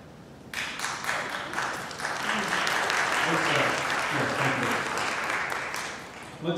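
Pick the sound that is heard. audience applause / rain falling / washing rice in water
audience applause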